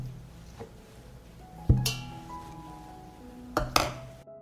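Glass jars set down into a deep cooking pot lined with a cloth on the bottom, giving a few muffled clinks and knocks, close up and separated by quiet pauses.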